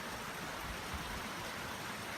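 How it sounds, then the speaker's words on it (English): A creek runs beneath a layer of ice, making a soft, continuous rushing hiss with no pauses and no voices. "You can hear the water underneath the creek."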